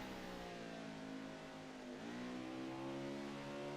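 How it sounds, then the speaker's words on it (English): Race car engine in a sim racing game at Watkins Glen, a steady mid-pitched drone that dips and climbs again midway as it shifts down, faint and a little distant, no talking. "You can hear that downshift."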